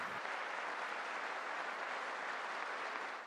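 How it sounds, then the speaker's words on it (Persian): Sustained applause in the US Congress chamber for the president, a dense, even wash of clapping from many hands that holds steady throughout with no speech. "دموکرات‌ها هم رئیس جمهوری آمریکا را تشویق کردند"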